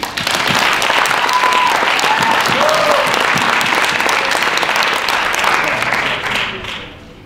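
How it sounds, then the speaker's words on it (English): Loud, steady applause from an audience at a university business club awards ceremony, sustained for several seconds with a few voices calling out before it fades out at the end. "Let's applaud my incredible teammates."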